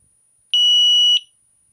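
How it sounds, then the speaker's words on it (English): A Rockbros electronic handlebar bicycle horn gives one loud, steady electronic beep lasting about two-thirds of a second, close and alone against silence. "Oh, that's back to the beep now."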